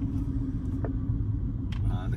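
A 2004 Mercedes-Benz S55 AMG cruises on the open road, its engine and tyres making a steady, loud low rumble throughout, with a brief faint rattle near the end.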